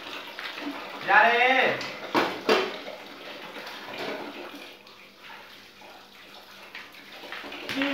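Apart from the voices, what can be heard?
water running while rinsing dishes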